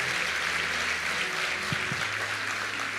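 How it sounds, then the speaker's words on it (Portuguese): Church congregation applause roars as a continuous, dense wash of clapping, with low sustained instrumental tones humming faintly underneath throughout. "Você pode dar um aplauso a ele?"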